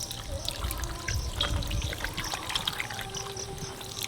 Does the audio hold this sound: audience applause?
no